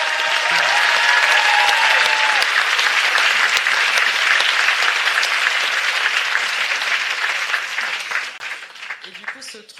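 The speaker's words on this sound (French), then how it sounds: "On peut applaudir le planning féminin" Audience applause at a talk on fighting the far right in daily life, sustained dense clapping from a crowd, loud and steady before thinning and fading out near the end; a few voices mix in.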